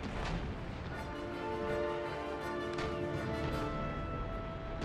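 Warship broadside cannons boom in an Empire Total War naval battle against the Mughal navy, a rolling series of heavy shots overlapping with each other and with deep rumbling echoes, loud and continuous with no talk.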